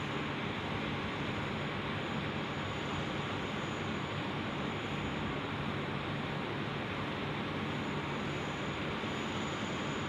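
An Airbus A350 takes off at night from Sydney Airport, a continuous broadband jet roar with a steady thin high whine, heard from a distance and unbroken for the full stretch.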